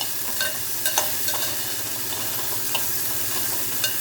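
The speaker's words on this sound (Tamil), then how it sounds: "அதுக்கப்புறம் நான் வெண்டைக்காயை சேர்த்துடுறேன் அதில் நான் எவ்வளோண்டு எண்ணெய் விட்ருக்கேன்னு உங்களுக்கே தெரியும் இதில் எப்படி நல்லா ஃப்ரை ஆகுதுன்னு பாருங்க" Okra frying in a little oil in a pan, a steady close sizzle running throughout with a few soft stirring clinks on top.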